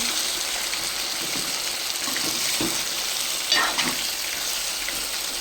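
Chicken pieces frying in a pan for home-style biryani: a close, steady sizzle with stirring scrapes and a brief louder burst of hiss midway, no voices.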